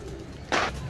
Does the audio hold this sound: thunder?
no